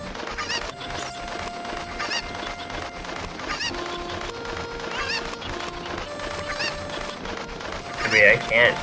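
Cucco chickens in Zelda: Ocarina of Time, scattered clucks and squawks among other game sounds and tones, with a louder squawking burst near the end and a player talking at times.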